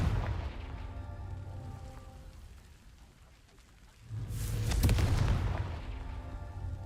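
A Confringo fire blast spell explodes in Hogwarts Legacy on PS5, a deep booming burst swelling up after a quieter lull, with rumbling low-end noise before and after the main blast.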